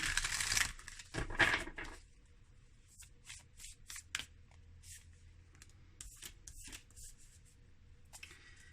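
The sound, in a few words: shuffling tarot cards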